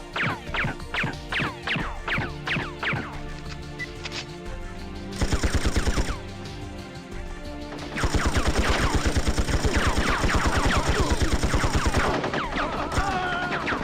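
Repeated machine-gun bursts and single gunshots from 007 Tomorrow Never Dies, loud rapid fire in bunches with brief gaps, carrying on steadily through the stretch with no voices over it.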